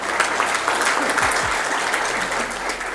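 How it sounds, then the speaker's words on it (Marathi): An audience at a motivational talk on time management claps together in steady, dense applause that holds at an even level throughout, with no speech over it. "ह्या सगळ्या टाळ्या आपल्यासाठी आणि आपल्या नवीन टीम मेंबर्ससाठी होत्या."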